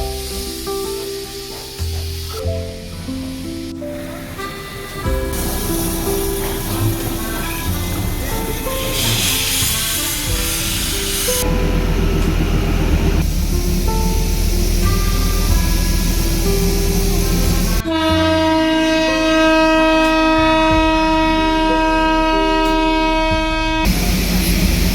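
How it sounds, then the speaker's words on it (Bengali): The Darjeeling toy train rumbles along with a steady, loud mechanical drone, its horn sounding in long sustained tones near the end, mixed with street and crowd noise around it. "কিছুক্ষণ অপেক্ষা করতেই টয় ট্রেনের দেখা মেলে"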